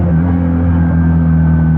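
A Benelli Patagonian Eagle 250 motorcycle engine running steadily at low revs, a loud, close, deep rumble that holds an even tone throughout.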